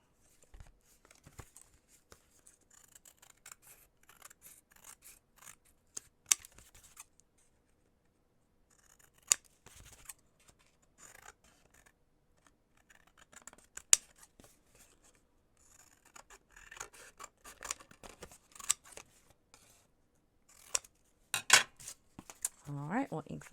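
Scissors trim a painted fabric patch with soft, scattered snips and faint rustling of cloth, quiet and close, with a few sharper cuts near the end.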